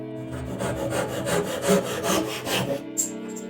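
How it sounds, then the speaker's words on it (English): Steady back-and-forth strokes of a handsaw cutting a small wood piece for a mini box joint jig, close and rhythmic, with about six even pulls before stopping. "you can also not cut all the way through and just cut it out by hand later"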